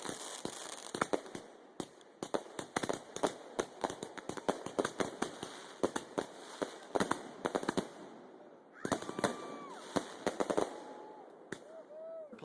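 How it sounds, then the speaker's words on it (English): Fireworks display at a night event, with dozens of sharp bangs and crackling bursts firing in rapid irregular volleys for about eight seconds, then fewer, scattered pops over a lingering background hiss. "After that, we had, of course, our fireworks display."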